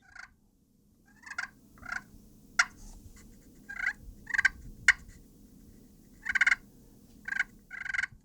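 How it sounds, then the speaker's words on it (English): Wild turkeys purring and clucking, a series of soft, subtle rolling calls in bursts, fairly close, over a quiet outdoor background. "See how that's that real subtle purring?"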